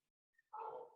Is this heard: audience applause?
no